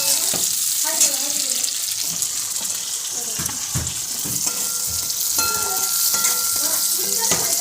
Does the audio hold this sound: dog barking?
no